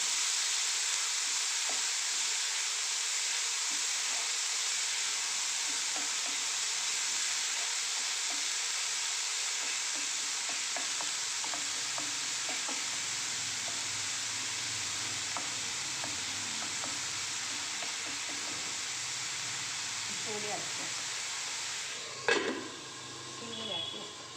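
Banana flower stir-fry being stirred in a hot pan, a steady sizzle throughout with soft scraping stir strokes, close up, ending in a brief clatter.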